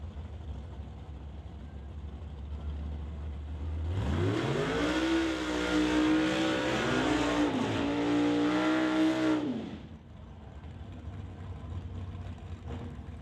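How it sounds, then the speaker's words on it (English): Two doorslammer drag cars out of a Nova pairing do burnouts at a Canada West Doorslammers race, a loud sustained engine roar with wavering revs and tire squeal lasting about six seconds, rising abruptly and then cutting back to a low idle rumble. "We get ready for burnouts from the pair."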